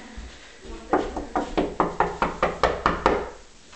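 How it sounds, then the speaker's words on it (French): Knuckles rap on a door in a brisk, even series of about a dozen sharp knocks, close and clear, with nothing else heard. "Toc toc."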